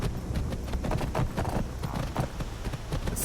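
Horse hooves clip-clop steadily in the fantasy game Skyrim, modded, as a mount travels along, with a busy game soundscape underneath.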